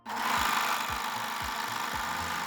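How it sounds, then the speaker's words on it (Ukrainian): An overlock machine sews a seam joining mesh fabric pieces, running at a steady loud whir with a rhythmic low thump repeating about twice a second, close up with no talk. "З'єднуємо на оверлоці."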